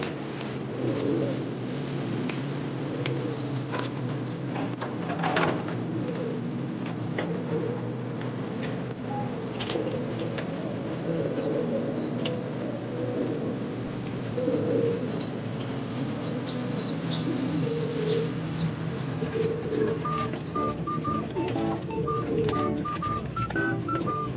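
Racing pigeons coo softly at a loft in Guimba, Nueva Ecija as they arrive, low burbling calls repeating over steady outdoor ambience with a few chirps.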